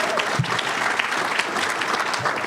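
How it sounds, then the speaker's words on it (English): Brief burst of applause from attendees at a county budget luncheon, many hands clapping in a dense, steady patter for a couple of seconds. "Give her a round of applause."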